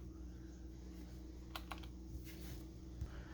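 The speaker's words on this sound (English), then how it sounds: "this is how the spacebar sounds, numbers, letters" Keystrokes on a Keychron K4 v2 wireless keyboard with swapped keycaps, a few sparse clicks and thocks over a steady low hum, close and fairly quiet.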